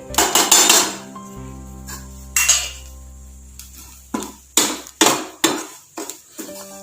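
A spoon scrapes and clinks against a sambar pan while chili, coriander and turmeric powders are stirred in, giving several close, sharp metallic strokes in uneven bursts with short pauses between them and no speech.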